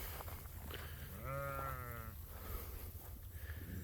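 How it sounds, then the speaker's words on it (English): A single sheep gives one clear, wavering bleat lasting under a second at moderate distance, set against a quiet outdoor background on an October evening with a mixed flock. "sheep are doing pretty good"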